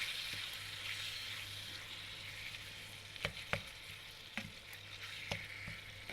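Ground meat seasoned with cumin sizzles softly in a pan, a steady quiet frying hiss broken by several sharp scrapes and clicks of a spoon stirring, with no voices.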